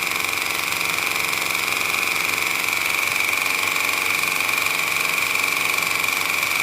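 A homemade single-stroke air engine, its valve built from a motorbike valve body, runs steadily with a continuous mechanical whir and a sustained high tonal hiss of air pressure, close and even throughout.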